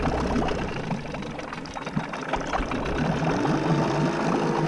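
A boat engine idling at low throttle while warming up, a steady close rumble with a continuous wash of water noise around it and no voices.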